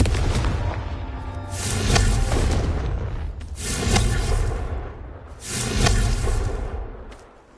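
Confringo fire spell blasts cast in the Hogwarts Legacy video game, three booming bursts with whooshing tails about two seconds apart, loud and alone.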